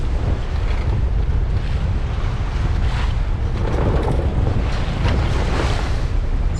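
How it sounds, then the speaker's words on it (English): Hefty waves crash against a 20-foot Norfolk Gypsy sailboat while strong wind buffets the microphone, a loud, constant roar with surges of surf and no voices. "Hefty waves out here today."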